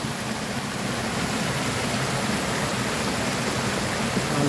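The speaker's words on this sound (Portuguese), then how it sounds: "É um desvio do rio." River water diverted into an intake channel that feeds a water wheel rushes with a constant, dense hiss, loud and close, steady throughout with no voices.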